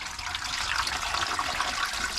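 Water pours steadily and loudly into a Presto pressure canner on a kitchen stove, a continuous rushing splash that fills the short stretch without pause.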